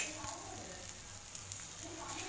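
Capsicum (shimla mirch) sizzles steadily in a hot pan while being turned, a soft continuous frying hiss with faint scraping stirs.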